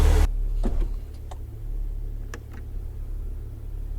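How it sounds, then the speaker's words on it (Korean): A Maserati Levante S air suspension compressor lowering the car: a low, steady mechanical hum drones on after a brief louder burst, with a few faint clicks over the whirring. "컴프레셔 도는 소리가 나면서 차고가 내려가고 있습니다."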